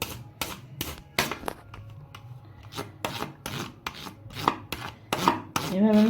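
A ladle presses hot boiled potato pieces in a pot, making a series of rhythmic, close, squelching thuds and scrapes, several per second, with no talk.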